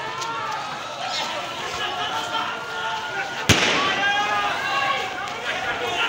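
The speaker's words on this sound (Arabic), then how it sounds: "شوف رصاص حي" Live gunfire at a street protest: one sharp, loud crack cuts through constant crowd noise and shouting, with a few fainter pops nearby.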